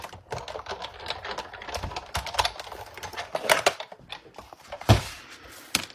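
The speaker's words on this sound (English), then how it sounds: "I'm going to run this through the Big Shot" A Big Shot die-cutting machine cranked by hand as a thick dynamic embossing folder passes through it, giving irregular close clicks and knocks with a firmer thump near the end.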